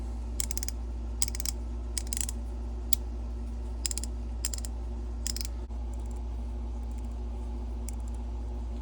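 A 70-year-old Craftsman ratchet, freshly cleaned and greased, clicks in short separate bursts at close range, each a quick run of ticks, over a steady low hum; the clicks stop partway through.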